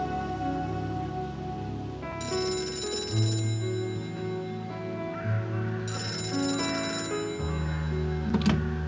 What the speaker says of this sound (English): How did you know the phone would ring just now?